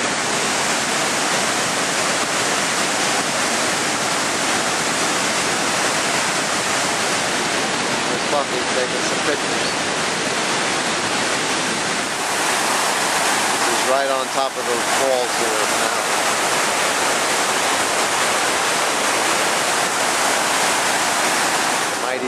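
The Zambezi River waterfall roaring as a constant loud, broadband rush of water and mist close by, with someone talking over it.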